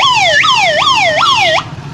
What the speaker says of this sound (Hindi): पुलिस के गाड़ी की आवाज